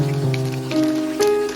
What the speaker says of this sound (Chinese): 然后转中火慢慢煎